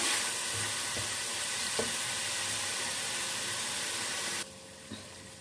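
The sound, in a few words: mutton keema frying in a pan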